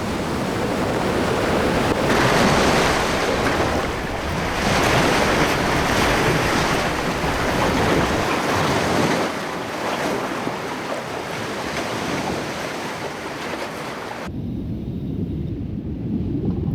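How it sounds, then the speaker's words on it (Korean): Rough ocean waves surge and crash steadily, with a loud, continuous rushing roar and wind buffeting that eases briefly near the end before the churning water returns. "바다는 때론 성난 파도를 불러옵니다."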